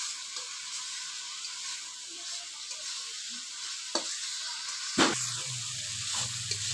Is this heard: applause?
no